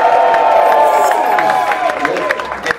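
Live comedy audience at an Edinburgh Fringe show cheering and whooping, a loud burst of crowd noise with clapping that slowly eases off.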